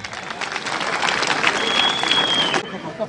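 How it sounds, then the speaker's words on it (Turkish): An audience at a public gathering in Van, Turkey, applauds in a dense, sustained wash of clapping from many hands for about three seconds. It sounds close and fairly loud, and a thin whistle-like tone rises briefly above it. "sizlerden güçlü bir alkış istiyorum"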